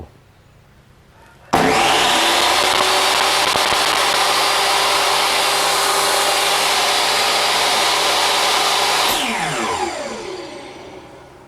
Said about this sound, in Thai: ลองใช้งานกับโต๊ะเลื่อย DWall DWE 7492 กัน